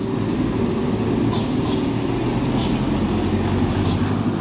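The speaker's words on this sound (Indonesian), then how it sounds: "di sini truk trailernya ternyata nyangkut teman-teman ya" A trailer container truck stuck on an oily road, its engine straining in a continuous heavy low roar, with a few short hissing bursts from the brakes or air releases on top.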